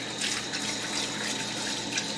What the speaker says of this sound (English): Make sure you soap up your hands, get them nice and clean.